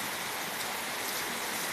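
Heavy evening rain pours steadily on a corn garden where puddles are forming, a dense, even hiss with no pauses and no voices.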